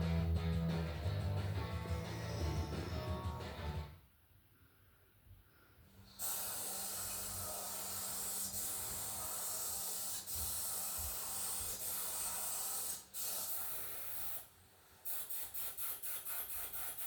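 Spray paint being applied as primer and top coat onto knife and bar parts, green and red, with close, steady hissing bursts broken by short pauses between passes.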